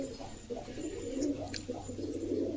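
Pigeons kept by hobbyists coo softly nearby, with several low throaty burbling calls repeating over a faint background hum.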